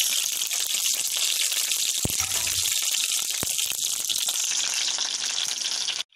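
Taco filling cooking in a pan on a stove, producing a dense, even hiss of sizzling that stays loud and close for several seconds, with a couple of sharp clicks partway, then cuts off abruptly at the end.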